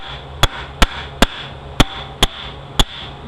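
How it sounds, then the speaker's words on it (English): Six sharp hammer taps land at an uneven pace on a transmission part during a 62TE automatic transmission rebuild, each strike close and crisp over a quiet workshop background. "then you can put it down with the hammer."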